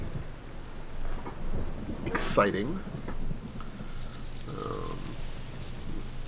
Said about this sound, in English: It's dark and it's rainy.